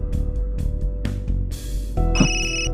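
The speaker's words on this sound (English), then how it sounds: "A phone call at a time like this." A phone rings in the video game Solo Leveling Arise, a bright electronic ringtone sounding near and steady over busy game music and effects.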